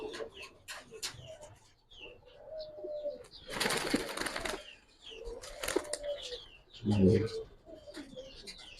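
Silver giribaz and coloured pigeons in a loft give soft, low, rolling coos in repeated bursts, close by, with a flutter of wings and people talking intermittently around them.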